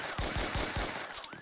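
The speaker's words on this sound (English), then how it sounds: "Shoot him with the tranquilizer." A tranquilizer gun firing in a video game, several punchy close shots in quick regular succession with a brief whooshing tail near the end, no talking.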